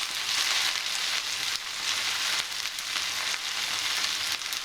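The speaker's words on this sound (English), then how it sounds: "So you just open a packet of veggies, Stir Fry Veggies, bung them in" Packet stir-fry vegetables hit a very hot pan and fry with a loud, steady hiss and crackling spit that stays close and continuous throughout, with no talk.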